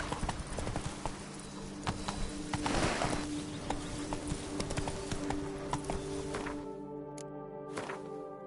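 Roach, the horse in Witcher 3: Blood and Wine, gallops with rapid clip-clopping hoofbeats, close and continuous, fading as the ride slows near the end.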